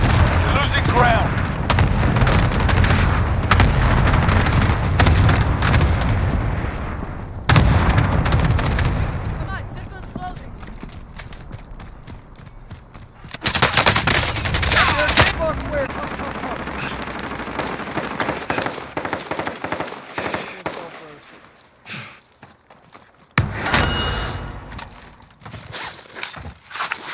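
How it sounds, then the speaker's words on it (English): Cluster strike explosions pound a video game battlefield, with dense bursts of booms and rapid gunfire, loud and close, a couple of sharp surges separated by quieter stretches. "Ally cluster strike inbound."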